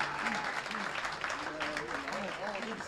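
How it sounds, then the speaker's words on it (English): A crowd at an event gives a round of applause for a new president, a continuous, fairly soft patter of many hands with voices talking and calling out over it. "I want y'all to give a big round of applause for our new president,"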